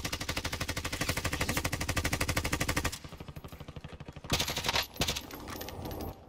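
Rapid automatic gunfire in the video game Call of Duty Warzone, a long loud burst of steady shots that stops, then quieter bursts and a few sharper cracks follow, with no talking over it.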